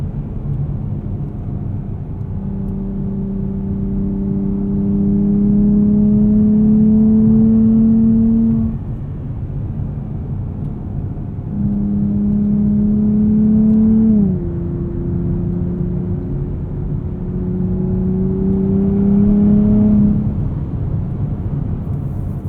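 A 2023 Nissan Z with a 9-speed automatic and standard, fairly muted exhaust pulls hard from inside the cabin, engine tone climbing steadily through two strong accelerations broken by quick upshifts, with no talking.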